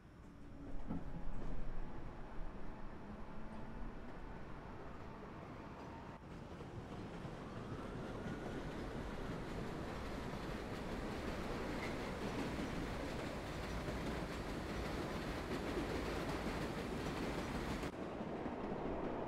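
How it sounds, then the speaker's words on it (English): A New York number 7 local subway train in the World of Subways 4 game runs with a steady, loud rumble and rolling hiss that holds throughout, with a brief louder burst near the start. "This is the number 7 local train to Main Street Flushing."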